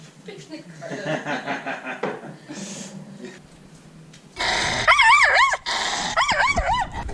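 A dog barks and whimpers on a day out fishing, with several sharp yips and whines rising near the mic amid chatter and laughter from people close by.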